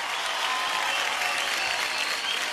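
Studio audience applause for a singer on Indian Idol, a steady, even wash of clapping from a large crowd throughout.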